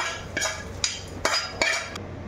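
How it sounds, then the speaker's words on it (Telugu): Tempering being poured and stirred into a sesame, peanut and tomato chutney in a pan, with a few sharp metallic scrapes and knocks of a spoon against the pan at irregular intervals, close and clear with no talk. "తాలింపులో పచ్చడిలో వేసేస్తున్నానండి తాలింపు"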